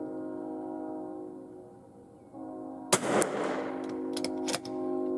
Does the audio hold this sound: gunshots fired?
yes